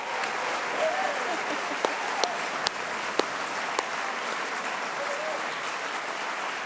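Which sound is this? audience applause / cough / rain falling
audience applause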